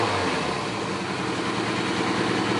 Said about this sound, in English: I hardly hear any kind of lifter noise or anything out of the engine.